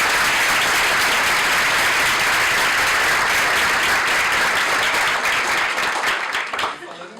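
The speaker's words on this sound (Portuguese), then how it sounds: "Dá uma salva de palmas aí para esses professores aí" An audience at an agroecology talk gives the professors a sustained round of dense, steady applause for about six seconds, which then thins out and fades.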